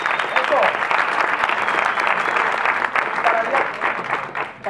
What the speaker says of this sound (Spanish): ¡Aplausos para Helios!